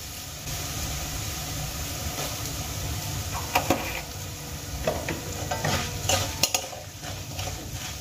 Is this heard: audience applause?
no